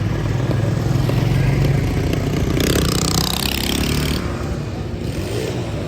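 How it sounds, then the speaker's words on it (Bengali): Several motorbikes pass along the Southend seafront, their engines rumbling loudly and close, surging to a peak as they go by, then fading slightly. "এই যে আমার সামনে দিয়ে যাচ্ছে কিছু বাইক"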